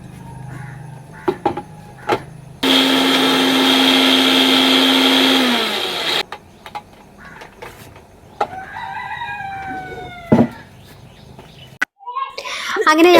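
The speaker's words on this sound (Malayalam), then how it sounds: "അപ്പോൾ അത് മിക്സിയിലിട്ടിട്ട് ഒന്ന് കറക്കിയെടുക്കട്ടോ" A mixer grinder blending coconut whirs loudly and steadily for several seconds, then stops; faint clucking and a rooster crow sound in the background before and after.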